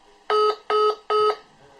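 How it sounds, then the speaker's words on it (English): A TETRA handheld radio emits three evenly spaced electronic beeps as it switches into trunked mode, each tone short, clean and close, with silence between. "It'll make a few funny beeps,"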